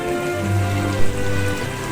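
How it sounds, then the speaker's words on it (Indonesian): Light drizzle in the Trainz railway simulator, a soft steady patter of rain over a low locomotive engine hum that rises and falls, with a brief thump midway and no voices. "Hanya suara hujan gerimis dan mesin lokomotif Leo yang perlahan menggerak."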